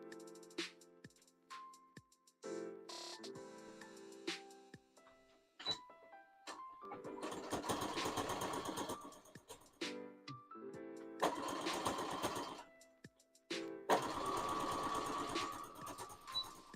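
A sewing machine stitching back over a cosplay seam in short bursts, whirring runs of rapid needle clatter separated by pauses and small clicks, fairly close.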